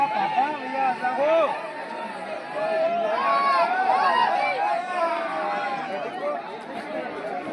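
A large crowd waiting in line at Girnar mountain near Dattatreya, a steady babble of many voices chattering at once, close and continuous.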